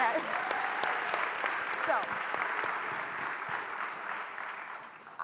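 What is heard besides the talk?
applause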